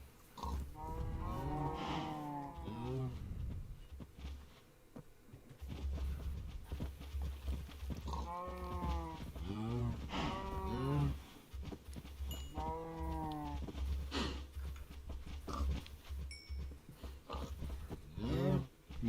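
Cattle lowing in a farming video game, several long drawn-out moos in a row over a steady low background hum, fairly loud and close.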